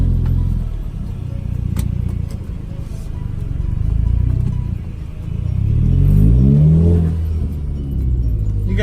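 An Audi A3 with a 2.5-inch straight pipe exhaust producing a loud, deep, close engine drone, with a rev that swells and falls back near the end, and no talk.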